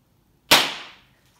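A single sharp crack of a small New Year firework bursts loud and close, its bright snap decaying quickly into silence.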